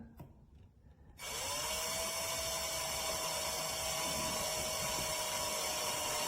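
A VIWKO 20V cordless drill drives a small pointed screw, starting after a second of quiet with a steady, continuous whir that holds at an even level to the end, close by with no talking.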